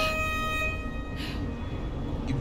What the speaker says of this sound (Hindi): ये पीछे हॉर्न कौन बजा रहे हैं